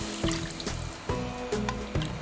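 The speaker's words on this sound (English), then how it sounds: "And then I'm gonna add some water" Water is poured into a pot for sardine rice noodle sauce, a soft, close trickling and splashing with small repeated clinks, fairly quiet and without speech.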